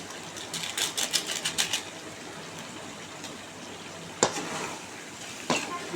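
Pallipalayam salt chicken curry being stirred in a pan with pepper powder, a quick run of scraping, clattering spoon strokes on metal at the start, then quieter with a couple of sharp knocks later.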